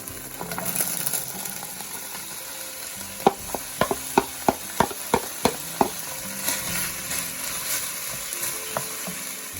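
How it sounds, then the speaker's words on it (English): Vegetables cook in oil in a pan for a classic beef stew, with a steady sizzle and frying hiss broken by a quick run of sharp, evenly spaced taps and scrapes from stirring. "in this pan, we're gonna add a little more oil and we're gonna cook our vegetables"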